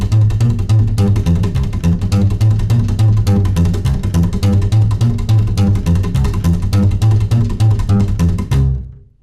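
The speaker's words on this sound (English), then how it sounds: "once you get the speed up," Rockabilly slap bass walking a C line in a rumba rhythm at full speed, loud and continuous with percussive string clicks over deep plucked notes, alone, stopping near the end.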